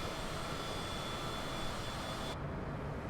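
A Cessna Citation CJ4 descends with its air brakes deployed in Microsoft Flight Simulator. It produces a steady, fairly quiet jet and airflow roar with a faint high whine, and the upper hiss drops away near the end.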